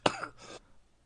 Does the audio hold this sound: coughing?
yes